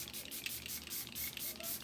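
Makeup Revolution Super Fix misting setting spray hisses out in a few short, close bursts of fine mist.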